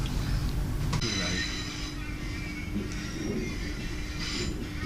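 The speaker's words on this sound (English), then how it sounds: "But for now, we're on the train." A train leaving London Paddington for Newport, heard from inside as a steady rumbling roll with metallic wheel squeals and screeches rising and fading over several seconds.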